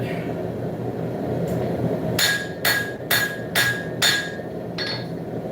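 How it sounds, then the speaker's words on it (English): Hand forging of a knife from Monel, a copper alloy, with five or six sharp, ringing hammer blows in an uneven rhythm. They rise over a steady background roar, likely a forge. "I'm forging a knife out of Monel Alloy"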